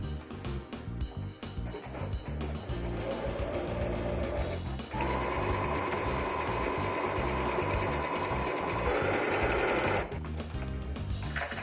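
A sewing machine stitches a buttonhole in a steady, fast mechanical whir. It runs continuously at a moderate level and changes tone partway through as the stitching pattern shifts, then stops near the end.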